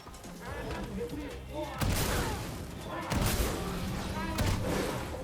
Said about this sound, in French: Il va utiliser son canon.